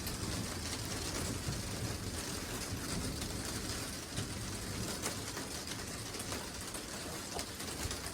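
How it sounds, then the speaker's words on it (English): Heavy rain pours steadily outside in the dark of night, a dense, unbroken hiss at constant loudness with no voices. "it's raining crazy out here"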